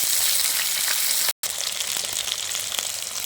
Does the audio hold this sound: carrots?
yes